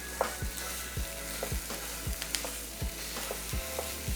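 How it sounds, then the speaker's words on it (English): Homemade breakfast sausage, ground meat, sizzling steadily in a pan as it is broken up and stirred, with a regular scraping stir roughly every half second over the continuous fry hiss. "All we're doing is just cooking down our breakfast sausage to make sure that it is fully cooked"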